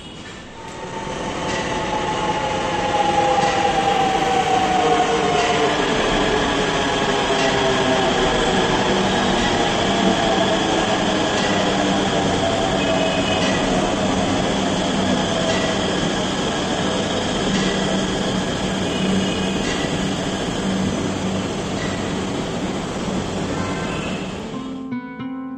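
A Namo Bharat RRTS train at Ghaziabad station gives a loud, steady rumble and whine that slowly shifts pitch as it moves, heard close with no talking.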